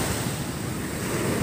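Sea waves roll onto a beach in Nha Trang with wind buffeting the microphone, a continuous loud roar of surf and no voices.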